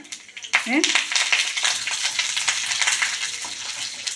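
Chana dal and urad dal dropped into hot oil for upma, a sudden clatter and sizzle followed by steady crackling frying close by, with no talking.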